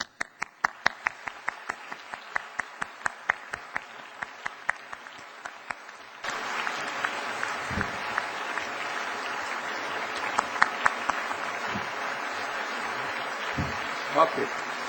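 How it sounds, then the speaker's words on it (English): An audience at a prize ceremony applauds the 13 prize winners, starting with sparse, distinct claps that swell into dense, sustained applause filling the hall. "They are worth our applause."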